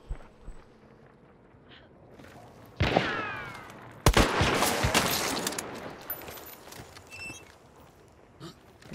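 Gunfire during a shooting match: a distant crack is followed by a louder close shot and a rolling, echoing report, with fainter scattered shots and movement noise around them.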